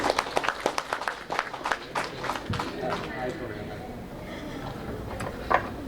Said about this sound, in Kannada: with huge round of applause, ಜೋರಾದ ಚಪ್ಪಾಳೆ ಬಳಿ